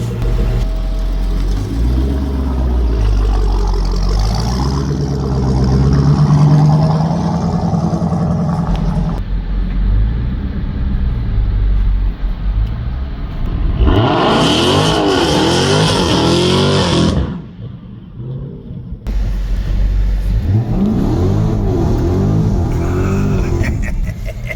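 A 840 hp Dodge Charger Hellcat Redeye roars through a burnout, its engine revving loud and near with rising and falling sweeps and a brief dip, voices and crowd noise mixed in.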